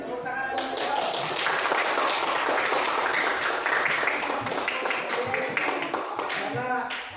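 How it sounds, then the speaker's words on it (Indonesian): A classroom group applauds after a lesson, with steady, dense clapping that stays loud and unbroken throughout, and a few voices mixed into it. "tepuk tangan buat Bang"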